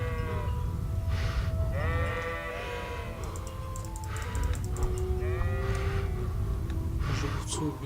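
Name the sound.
sheep bleating in video game Kingdom Come: Deliverance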